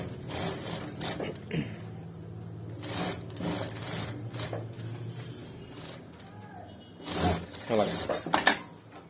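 A sewing machine runs in short stitching bursts on a gents' shirt seam, with pauses between runs, while a person talks over and between the bursts.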